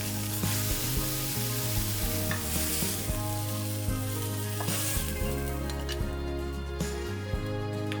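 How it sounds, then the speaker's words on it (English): Steaks brown in olive oil in a frying pan, giving a steady loud close sizzle throughout with occasional stirring and scraping. "we're going to place our steaks and brown each side for about a minute."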